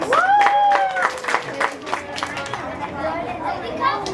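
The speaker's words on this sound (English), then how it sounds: "Can we give Tayu a big round of applause?" An audience at a Halloween open house at a music school applauds for Tayu: a short burst of clapping mixed with crowd chatter and a raised voice or cheer riding over the top.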